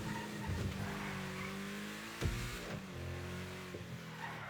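A car engine revs loudly during a street race in the FiveM video game, a steady high drone with a brief burst of tire squeal in the middle. No speech is heard.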